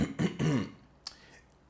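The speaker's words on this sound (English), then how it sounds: "let me clear my throat for that" A person clears their throat in a couple of short, rough guttural bursts in quick succession, followed by quiet and a faint click or breath.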